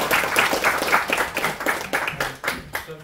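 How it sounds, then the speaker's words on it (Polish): Applause from an audience at a village meeting: a dense patter of many hands clapping at once, moderately loud and fairly near, tapering toward the end. "dziękujemy za oklaski"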